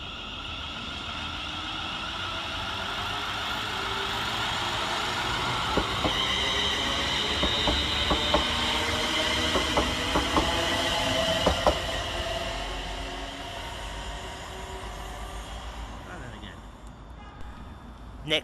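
A ScotRail Class 380 electric train pulls out of Paisley Gilmour Street on a Glasgow Central to Ayr service, giving a sustained rising rumble with wheel and rail clicks. A voice speaks over the sound.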